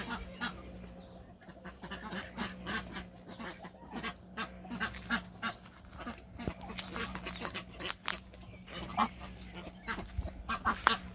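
Ducks, including crested ones, quack in a farmyard alongside geese and other poultry, with scattered honks and calls near and far, repeating across the whole stretch, with faint background talk.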